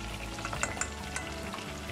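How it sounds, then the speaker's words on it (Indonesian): Chicken wings for ginger soy fried chicken sizzle and crackle in hot oil, a close, dense, continuous frying sound with small pops throughout. "Kalau kita nak tahu ayam yang kita goreng ni dah masak ke tak"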